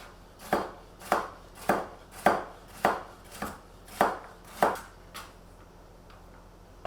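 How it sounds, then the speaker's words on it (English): A knife chops carrots on a cutting board with about eight sharp, evenly spaced knocks, close and clear, then stops. "Got my lengths, now I'm going to chop."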